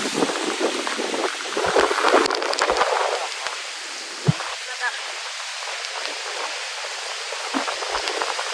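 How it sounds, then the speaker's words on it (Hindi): Heavy rain pours down on people caught outdoors and soaked through, a dense, steady hiss of drops running the whole time, with a few sharp knocks and muffled voices in the background. "ये देखिए कैसे बारिश हो रही है।"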